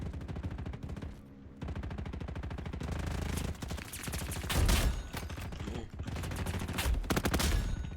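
Gunfire in a Roblox war-zone game, dense rapid bursts of automatic weapon fire with brief pauses and heavier blasts, loud and continuous.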